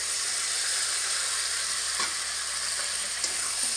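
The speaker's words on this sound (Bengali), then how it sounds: "এবার আমি এর মধ্যে ভেজে রাখা বরবটি আর আলু দিয়ে দেব।" Fried yardlong beans and potatoes stirred into masala frying in oil, a loud, dense sizzle close up with a couple of faint stirring knocks, and no talk.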